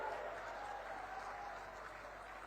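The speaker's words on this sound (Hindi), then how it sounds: "जोर से ताली बजाइए सरोज बहन के लिए।" An audience at an outdoor political rally in Korba claps for candidate Saroj Pandey, a steady wash of applause that stays fairly faint and distant throughout.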